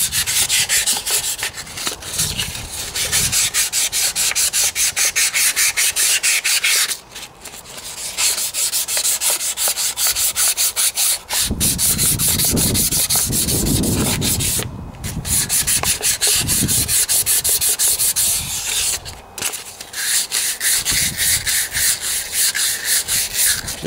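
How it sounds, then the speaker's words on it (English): Hand sanding an engine part of a Briggs and Stratton OHV Intek engine with 400 grit sandpaper, close rapid rhythmic scratchy strokes in long bursts separated by brief pauses, no voices. "Just lightly sand."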